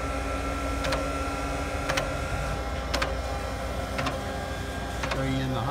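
Vemag Robby 2 sausage stuffer running with a steady mechanical hum and regular clicking ticks about once a second, close by, with a voice speaking faintly over it.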